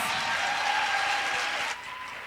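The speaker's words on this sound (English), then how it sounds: "Y'all give her another round of applause." An event audience gives another round of applause, a full, steady burst of clapping that drops off sharply toward the end, leaving a thinner tail of claps.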